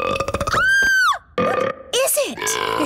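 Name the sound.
burp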